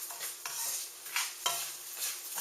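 Rice being stirred and toasted in a pan for Mexican rice, soft scraping strokes repeating every half second or so over a faint steady sizzle, close and quiet, with no voices.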